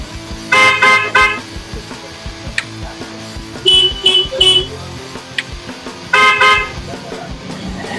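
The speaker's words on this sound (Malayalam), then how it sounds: "അതുപോലെ ഹോൺ ചെയ്തിട്ടുണ്ട്." A fitted horn on a Maruti Alto sounds in three loud bursts of rapid, harsh multi-tone honks, each lasting under a second, separated by quieter gaps with small clicks.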